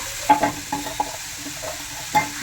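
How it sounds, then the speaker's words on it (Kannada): Squeezed vegetable filling for momos fries in a pan, with a soft continuous sizzle broken by a few light scrapes and taps of a spoon. It is brief and close, with no speech. "ಇವಾಗ ಇದನ್ನು ಫ್ರೈ ಮಾಡ್ತಿದ್ದೀವಲ್ಲ ಅದಕ್ಕೆ ಹಾಕ್ಕೊಳ್ಳೋಣ"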